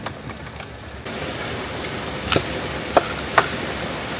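Steady rain falling during car camping on Jeju Island, a dense close hiss on surfaces that thickens after the first second, with a few sharper drips or taps standing out.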